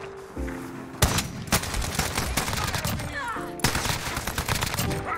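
Heavy Rytec AMR anti-materiel rifle in Modern Warfare firing three loud, widely spaced booming shots, each with a sharp crack and a long rumbling tail, over a steady bed of game noise.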